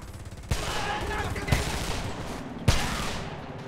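Gunfire in the video game Homefront, a steady rumbling stream of automatic shots under a few louder distinct bangs, dense and continuous over a short stretch.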